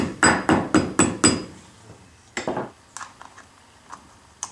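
Five quick, sharp taps in a row seat a magnet cap on the Tuff Torq K46 axle of a Husqvarna riding lawnmower, followed by scattered lighter knocks and clicks, close by.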